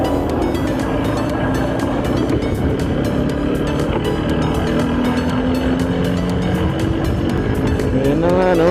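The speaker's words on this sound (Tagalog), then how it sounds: "Ayun na nga, no? Nag-stop yung motor natin sa third." A motorcycle engine stuck in third gear runs steadily and loudly throughout while riding, a continuous droning roar with no talk over it.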